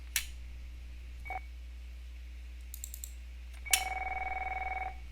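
Telephone dialing tones sound in a quiet setting: a short beep, a brief tone, then a longer sustained dual tone after a click, over a steady low hum.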